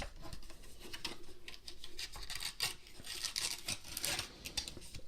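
Packaging for an official 2019 summer Apple silicone iPhone case is torn and opened, a steady close-up rustling, crinkling and ripping of paper and plastic that continues for about five seconds without speech.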